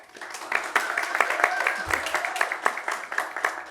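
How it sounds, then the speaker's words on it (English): Attendees at a Davis, California chamber of commerce economic development event clap for a speaker, the sharp claps building into moderate applause with faint voices mixed in. "round of applause for Katie"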